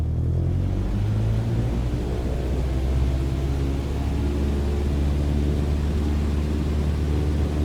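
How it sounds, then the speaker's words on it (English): A small aircraft engine in Microsoft Flight Simulator 2020 roars steadily at full takeoff power, a loud continuous droning rumble with no voices. "Apply full power and I'll walk you through the takeoff as we go."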